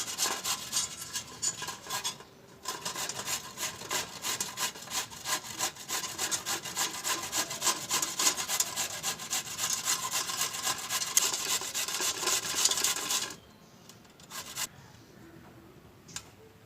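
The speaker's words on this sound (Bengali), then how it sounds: "এভাবে গ্রেট করে নিচ্ছি গাজরগুলো।" Carrots are rubbed against a hand grater in fast, steady rasping strokes that run for about thirteen seconds, then stop, leaving a few faint scrapes.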